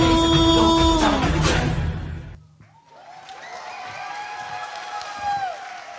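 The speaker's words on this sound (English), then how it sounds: "Can we give a bigger round of applause?" Audience applause at a school annual day after a Hanuman Chalisa performance; loud music fades out and a broad wash of clapping and crowd noise follows, steady and fairly loud.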